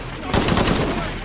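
Rapid automatic gunfire rattles out in a dense, loud burst during a firefight in the video game Shadow of the Tomb Raider, a fast rhythmic string of shots with no spoken words.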